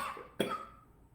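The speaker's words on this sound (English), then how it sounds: "When you get a cough, that is perfect." A single short, sharp cough bursts out close to the microphone during Ujjayi pranayama breathing, then fades quickly into quiet.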